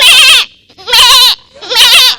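Someone imitates a goat, giving three loud, close bleats. Each lasts about half a second, with short silences between them.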